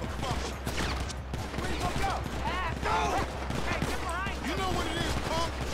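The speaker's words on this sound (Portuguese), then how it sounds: "Tá trocando tiro com os bandidos." Police and gangsters trade gunfire in GTA 5, rapid rattling bursts of shots at a moderate distance, layered with sirens and chaotic street noise, while someone talks over it.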